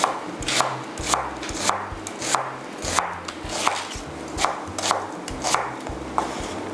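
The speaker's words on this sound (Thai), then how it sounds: "จากนั้นค่ะคุณผู้ชมซอยหอมหัวใหญ่นะคะตามยาวค่ะ" A knife slices a large onion lengthwise on a cutting board. Crisp chops land in a steady rhythm, about one or two per second, close and distinct with no talk.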